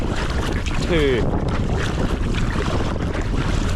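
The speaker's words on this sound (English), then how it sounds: "It's quite windy now" Strong wind buffets the microphone with a constant low roar while kayaking on Loch Tummel, and a voice briefly rises above it.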